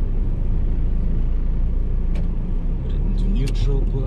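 A 1994 Honda Accord SM4 2.0i slows to a stop, with steady low engine and road rumble filling the clip, a few brief higher squeaks or clicks near the end, and no talk heard.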